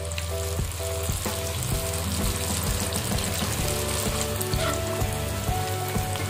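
Small snacks deep-frying in hot oil for sale to schoolchildren, giving a continuous dense sizzle and crackle that stays steady and close throughout with no talking.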